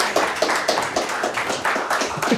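A small audience at a family talk claps in brief, fairly sparse rhythmic bursts, a handful of hands at close range with no voices over them.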